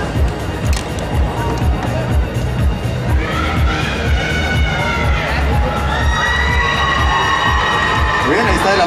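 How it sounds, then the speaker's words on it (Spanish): A crowd at a beauty pageant coronation applauds, cheers and shouts loudly throughout, with an announcer speaking over it. "ahí está el aplauso a toda la gente que la apoya"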